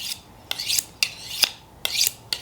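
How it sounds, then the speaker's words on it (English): A Victorinox knife blade is honed on a sharpening steel while cutting meat: five quick, bright metallic scraping strokes in an even rhythm, close and clear, with no voices. "just kind of steel your knife, and you want to make sure to keep that same angle"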